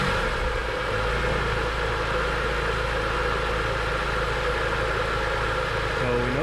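A BMW E46 M3 engine idles steadily after starting, a loud, close, continuous low rumble with a slight rise near the end, while people talk over it.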